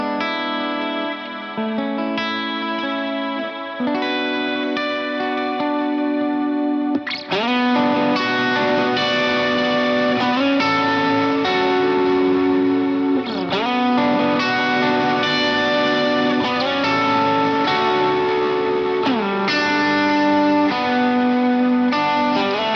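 An electric guitar runs through an Axe-FX III preset with compression and lush wet effects, playing sustained chords and arpeggiated notes with shimmering chorus, echo and reverb tails, loud and continuous with a fuller section after a brief pause.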